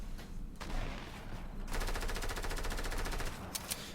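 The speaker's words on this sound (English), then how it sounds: "Now you're going to again see the power of the sniper rifle." Rapid, sustained gunfire in a video game featuring a sniper rifle, heard as dense bursts that grow into a steady clatter, with a couple of sharp louder cracks near the end.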